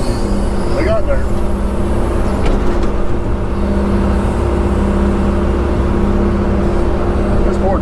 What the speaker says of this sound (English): Wait for 15 minutes and then all 3 trucks show up at once.